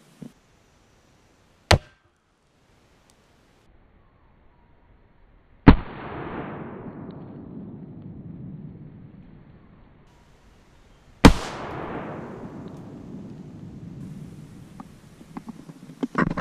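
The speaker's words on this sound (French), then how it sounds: "Une première, le flash théâtre tout seul" A theatre flash pyrotechnic charge fired on its own: sharp single bangs with long decaying rumbling tails, a couple of small clicks before them, heard clearly with no voices.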